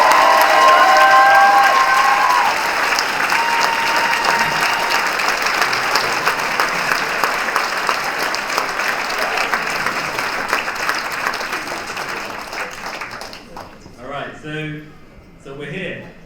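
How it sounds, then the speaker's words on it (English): Audience applause fills a hall at a legal aid lawyers' awards ceremony, dense and sustained for about thirteen seconds before fading out, with a person beginning to speak at the end. "a round of applause again to Ryan"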